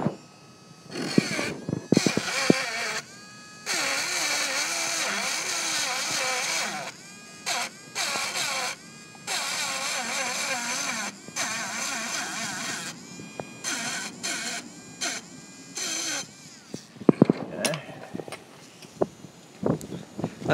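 A grinder touches up the edge of a butter knife, a close, steady buzzing whine in repeated passes of a few seconds each, broken by short pauses and clanks as the blade is handled.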